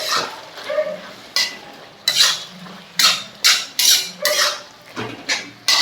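Beef tossed with chilli, turmeric and pepper powders in a pan, a ladle scraping and clinking against the metal in a steady run of close strokes, with a faint sizzle underneath.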